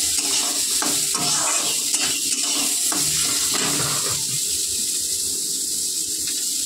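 Diced potatoes frying in a hot pan, a steady loud sizzle and hiss throughout with some stirring clatter in the first few seconds, no talking.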